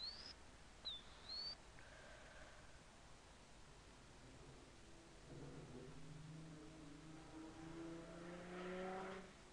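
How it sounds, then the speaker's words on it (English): Cars passing by outside a room, heard as a faint, distant engine drone that swells toward the end, with a brief bird chirp at the start. "Sorry for the cars."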